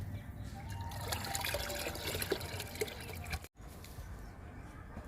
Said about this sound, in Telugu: ఈరోజు నేను లిక్విడ్ ఇస్తున్నా, శనగ చెక్క లిక్విడ్ కిచెన్ వేస్ట్ లిక్విడ్ ఇస్తున్నా మొక్కలకి.